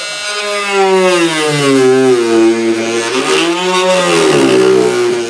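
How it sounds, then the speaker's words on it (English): A power saw makes a plunge cut into a recycled-lumber soaking tub. The loud motor whine rises and falls in pitch as the blade bites and eases through the wood, close and continuous. "So now I got to do this plunge cut"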